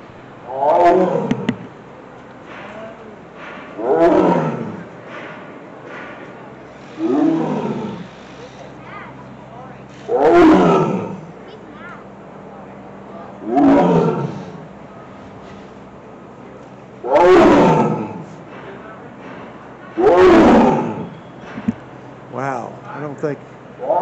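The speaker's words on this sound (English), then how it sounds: "it's that tiger" A tiger at the Tulsa Zoo gives a long series of deep, loud roaring grunts, evenly spaced every few seconds, with people talking quietly in between.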